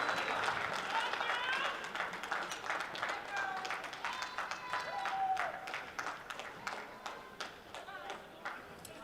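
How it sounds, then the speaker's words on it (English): Applause for the officials at the NZSS basketball championship grand final in an indoor arena, scattered claps and a light crowd, fairly faint and mixed with voices and footsteps. "big round of applause for Olivia Murray and Zion Skylar Pinamonti"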